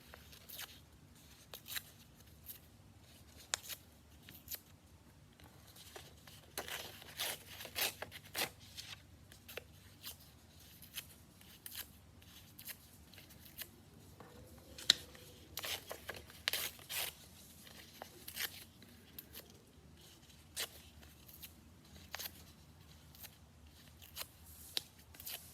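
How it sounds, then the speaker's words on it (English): Black paper being ripped into small pieces for a paper hat craft, heard as quiet, scattered tearing rustles and short rips spread over a long stretch with pauses between them. "I'm gonna rip it into small pieces."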